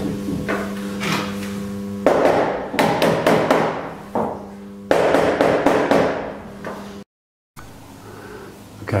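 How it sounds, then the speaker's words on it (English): A hammer drives a draught-proofing strip into a sash window frame, making rapid bursts of loud, sharp close taps in several runs separated by short pauses, with a brief silent gap near the end. "So what I now do with this remaining piece is hammer it in"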